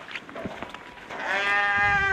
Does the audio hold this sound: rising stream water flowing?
no